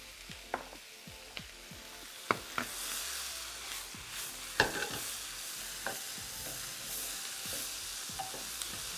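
Onions and beef are stir-fried in a hot pan with a pinch of sugar and salt, a quiet steady sizzle broken by repeated scrapes and knocks of tossing and stirring.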